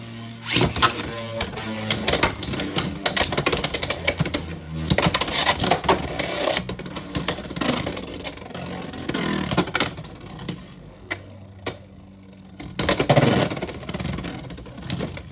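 Beyblade battle between Drawn Sword on a High Needle driver and KnightShield, with metallic clattering, scraping and spinning whirs from the tops colliding in a stadium, continuous and busy for most of the stretch.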